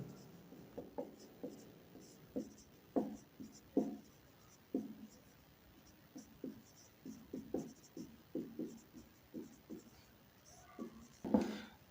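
A pen scratches across paper as a class 8 math solution on quadrilaterals is written out. The strokes come in short, quiet bursts with brief pauses between them, close up and with no talk.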